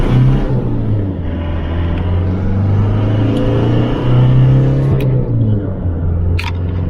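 A Holden Isuzu Rodeo pulls away on the road, its engine giving a steady low drone that rises in pitch as it gains speed, with a few faint clicks and rattles from the cabin, heard from inside the vehicle.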